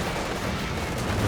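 A Raketen anti-tank gun fires during a 3v3 Company of Heroes 2 battle on La Gleize, a dense, heavy boom folded into a continuous roar of battlefield noise with no clear separate shots.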